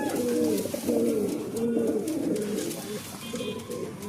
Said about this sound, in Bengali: একটা জিরা পায়রা শখ করুন, জিরা পায়রা দেখুন, মাদিটা খুব অনেক ছোট।